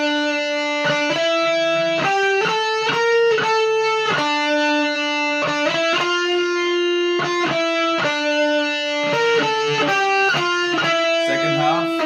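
Electric guitar plays a fast shred solo with distorted lead tone, rapid note runs and sustained bends, steady and loud with no talk.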